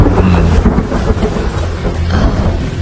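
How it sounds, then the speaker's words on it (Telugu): Loud, dense rain roars continuously with deep rumbling thunder rolling underneath, close and enveloping. "వర్షం పెద్దదైంది."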